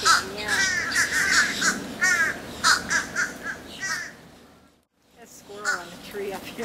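Several loud, harsh crow caws repeat close by, with a brief quiet gap before another burst of calls.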